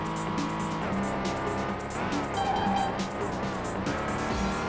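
BMW car in the Vanishing Point racing game, its engine droning steadily close up with shifting pitch as it drives, tire squeal flaring briefly, over game music.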